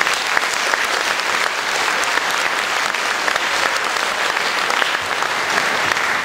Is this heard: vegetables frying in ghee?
no